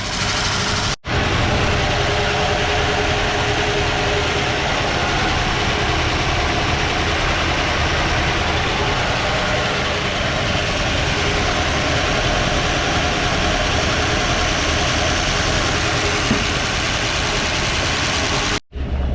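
A 1959 Plymouth Savoy engine idles steadily in a garage after a no-start problem, a continuous low rumble running close and loud and unbroken, with only brief dips near the start and end.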